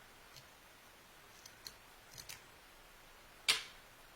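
Scissors trimming macrame cords at the bottom of a jar hanger tassel: a handful of faint, sparse snips and clicks, ending in one sharper, louder cut, in an otherwise quiet room.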